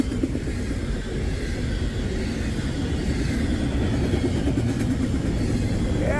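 Diesel train rolling along track 1 on an icy day, a steady low rumble of engine and wheels that holds close and even throughout, with no voices.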